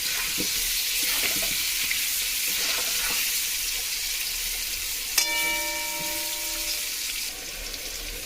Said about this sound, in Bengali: আলুগুলোকে ভালো করে উল্টে পাল্টে ভেজে নিতে হবে